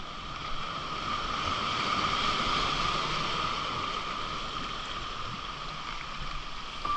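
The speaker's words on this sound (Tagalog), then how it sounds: "Galit na galit yung alon" Rough sea waves off the coast of Samar Island surge and crash in a steady, fairly loud wash of surf, with wind buffeting the microphone throughout and no talking.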